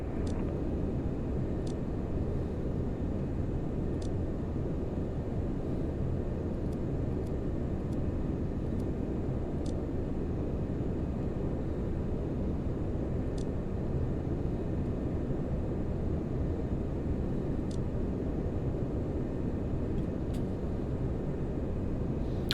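Steady, loud broadband engine roar of an L-1011-1 TriStar airliner rolling for takeoff in a flight simulator, continuous and unchanging, with faint sparse clicks above and no talk.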